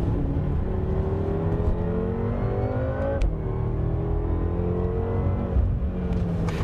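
A 2014 BMW M6 Gran Coupé winds through tight curves, its engine note steady and close with rising and falling revs as it works through the bends, no talking.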